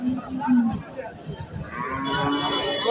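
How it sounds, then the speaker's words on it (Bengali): A Sahiwal breed bull at a cattle market moos in low, drawn-out calls, close by, with background chatter and crowd noise around it. "শাহিওয়াল জাতের সারগুলো দেখতে পাচ্ছেন"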